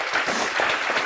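A classroom or lecture audience gives a short burst of dense, steady clapping, loud and close, lasting about a second with no talk over it.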